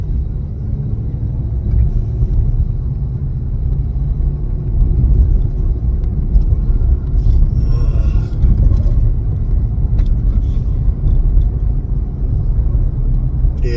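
Steady low rumble of a car driving, heard from inside the cabin, loud and continuous with no talking.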